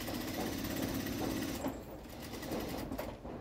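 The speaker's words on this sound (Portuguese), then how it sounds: "Costura bem próxima dos dentinhos do zíper." A sewing machine runs steadily, stitching close to the teeth of a zipper on a trapezoid toiletry bag, a continuous mechanical whirr that drops briefly and then resumes.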